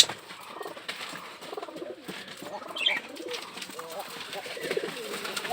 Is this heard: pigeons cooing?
yes